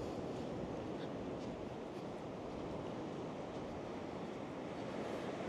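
Wind rushes at a fishing shore in a steady, broadband roar that buffets the microphone, with a faint wash like surf underneath and no speech.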